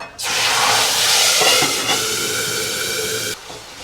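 Tomato puree hitting hot oil tempered with cumin and asafoetida, a sudden loud hissing sizzle that bursts in, holds strong for a few seconds, then cuts off sharply, close and without speech.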